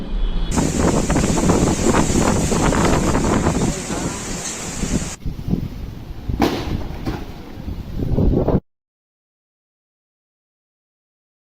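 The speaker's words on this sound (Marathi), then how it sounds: "रविवारी तुफान वादळी वारा आणि विजेच्या कडकडाटासह जोरदार अवकाळी पाऊस बरसला" Loud, steady wind roar with a rushing, rain-like wash across the whole band during an unseasonal thunderstorm in Nanded city, cutting off abruptly into silence near the end.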